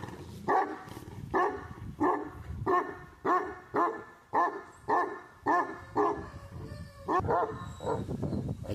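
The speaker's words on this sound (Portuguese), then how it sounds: "Tudo cachorro brabo." Several pit bull-type dogs bark in a steady series of loud, close yaps and woofs, roughly one bark a second, with a few whimpering yips mixed in and no talking.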